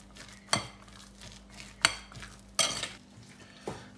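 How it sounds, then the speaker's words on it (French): Masala vada batter is stirred with a spoon in a bowl, producing a handful of sharp scraping and clinking strokes spaced irregularly over a quiet, soft background. "Je mélange bien l'ensemble."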